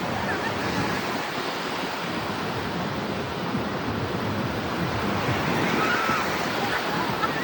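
Sea waves at Digha beach roar as a steady, dense wash of surf, loud and close, with wind buffeting the microphone throughout.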